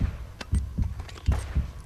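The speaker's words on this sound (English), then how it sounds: "Dramatic heartbeats." Dramatic heartbeat sound effect from the Uncharted video game: two paired low thumps, then a pause and another pair, in a steady throbbing rhythm that stands alone without speech.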